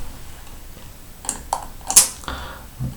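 Sparse keystrokes on a computer keyboard while entering an Excel formula, a few separate, close clicks with short gaps between them.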